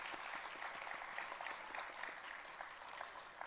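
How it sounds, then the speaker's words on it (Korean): A church congregation at a Sunday worship service claps warmly for a college youth group, a dense, steady sustained round of applause from many hands filling the room. "수고한 대학 청년부에 다시 한번 뜨거운 격려의 박수 부탁드리겠습니다."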